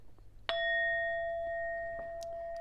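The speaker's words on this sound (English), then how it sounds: "let's just ding the bell" A single bright bell ding struck once, ringing out clear and close, then sustaining a long, slowly fading metallic tone in an otherwise quiet room.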